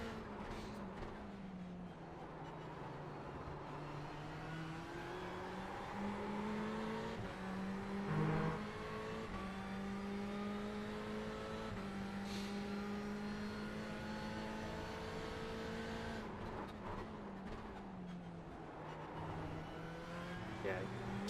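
Racing car engines in a video game race whine and rise and fall steadily through gear changes, a continuous droning rev with shifting pitch, under a faint voice.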